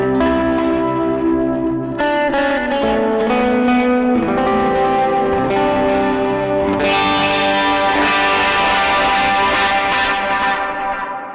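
Electric guitar played through an amp preset on a Line 6 Helix Stadium XL, sustained chords and ringing notes with a clean-to-lightly-driven tone, reverb and chorus, loud and continuous with no talking.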